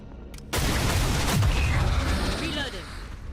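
Gunfire in the tactical game XCOM: Chimera Squad as a squad shoots at the Paladin, a dense burst of loud overlapping shots and booms starting suddenly and running on, with a voice speaking over it.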